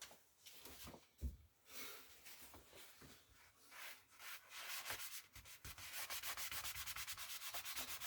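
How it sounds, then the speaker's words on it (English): A leather chest being wiped down with a cloth after a treatment has sat, giving close, steady rubbing and scrubbing strokes that grow louder and more rhythmic toward the end. "then we're going to go ahead and wipe it all down"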